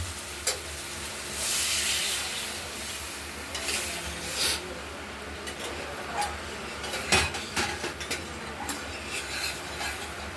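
Water poured into a pan of spice paste fried in oil until the oil separates, for a home-style egg curry with potato and onion. Soft steady sizzling with scattered clinks of a spoon against the pot. No one speaks.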